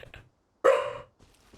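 One sharp, loud dog bark breaks a short pause, with soft indistinct sounds just before and after it.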